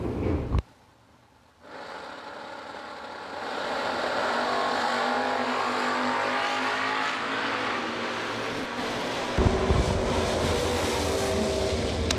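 A Chevy II drag race car roars down the strip at a bracket racing event, a sustained loud engine drone building after a brief lull, with a sharper surge near the end.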